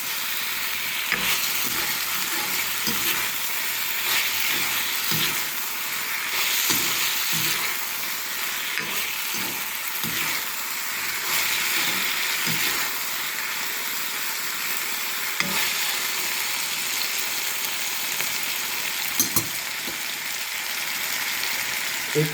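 Ginger garlic paste sizzles steadily in a hot pan, a continuous close frying hiss with occasional soft stirring scrapes throughout.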